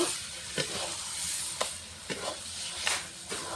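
Taro greens cooked down with fried peanuts are stirred in a hot pan. A steady low sizzle carries under periodic scraping strokes of a spatula against the pan, close and unaccompanied by talk.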